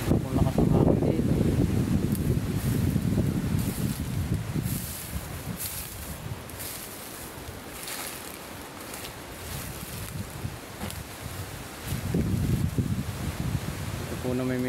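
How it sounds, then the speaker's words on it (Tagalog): Strong wind beside a river with a fast, often flooding current buffets the microphone in loud gusts at the start and again near the end, easing to a softer rush in between. "Ito pong lakas ang hangin dito"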